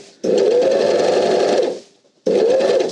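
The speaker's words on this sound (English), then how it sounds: "Put them to the side and I overlock." An overlocker trims and stitches the fabric edges of a shopping tote in two loud, rapid whirring bursts, the first lasting about a second and a half, the second starting after a short pause.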